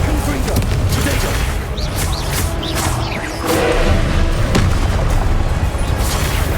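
Fiery spell explosion in the Hogwarts Legacy video game, a booming blast with crashing debris and whooshes that stays loud throughout, over a dense mix of other game effects.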